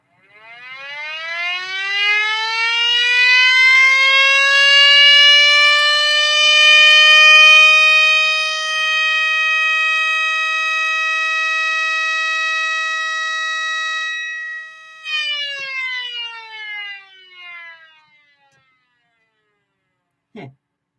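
A 3D-printed quarter-scale mini siren, Model 5, winds up into a loud, rising wail that holds steady, then drops off abruptly and sputters down to silence, with a faint click at the end.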